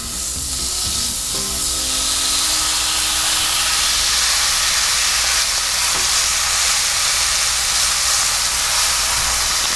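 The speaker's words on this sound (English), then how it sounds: "our cast iron's nice and hot and just started smoking, so we can put our steak right in it" Deer steak hits a smoking-hot cast iron skillet and sears with a loud, continuous sizzle and hiss that holds steady and close, with a few faint clinks near the start.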